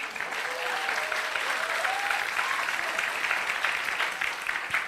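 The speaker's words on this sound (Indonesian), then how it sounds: "Tepuk tangan yang bener lah" A church congregation applauds at a Sunday service, a dense steady wash of many hands clapping throughout, loud and continuous, with faint tones lingering beneath.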